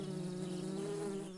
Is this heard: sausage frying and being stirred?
no